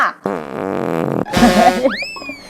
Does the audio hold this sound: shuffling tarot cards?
no